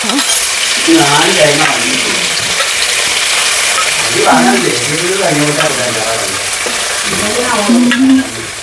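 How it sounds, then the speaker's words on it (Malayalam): Cooked vegetables (peas, carrots and beans) and their cooking water are poured into a hot pan of rava semiya khichdi, giving a loud, continuous sizzle and bubbling with stirring, while someone talks over it. "വെജിറ്റബിൾസ് ഓക്കെ പച്ചക്കറി എല്ലാം വേവിച്ചിട്ട് വെച്ചിട്ടുണ്ട് അപ്പം അതിൽ വെള്ളമുണ്ട് അതെല്ലാം കൂടെ ചേർക്കാം"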